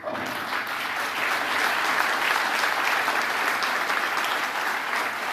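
A large audience at an awards event applauds continuously, a dense, even wash of clapping that stays loud throughout, with no pauses.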